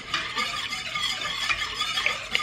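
Egg yolks, four of them, whisked in a bowl with steady rapid stirring strokes, a close scraping swish with small squeaky highlights and no talk.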